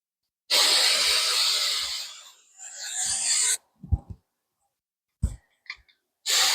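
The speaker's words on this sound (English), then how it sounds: "hairspray." Tresemme hairspray hisses out in a long spray of about three seconds that eases off and then builds again, followed by a few clicks and handling noises and one final short burst of spray.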